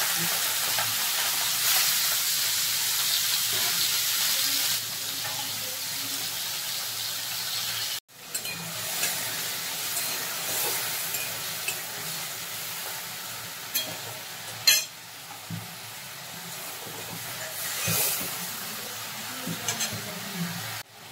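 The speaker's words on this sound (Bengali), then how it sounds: "এবার চিংড়ি মাছটা ভেজে নিচ্ছি।" Steady, close sizzling of prawns frying in hot oil, a continuous hiss broken once by a short gap and a few faint clinks.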